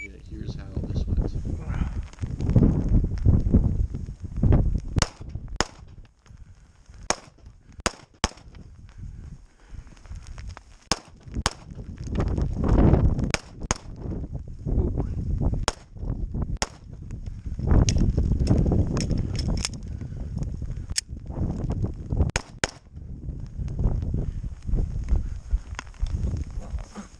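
Pistol shots at steel popper targets during a night shooting match ring out as sharp isolated cracks, spaced irregularly over roughly twenty seconds, amid footsteps, movement and talking from competitors and officials.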